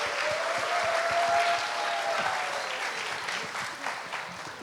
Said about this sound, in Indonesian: Tepuk tangan untuk Amabel.